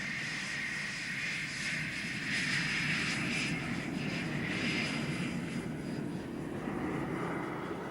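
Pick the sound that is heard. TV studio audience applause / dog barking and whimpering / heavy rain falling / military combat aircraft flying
military combat aircraft flying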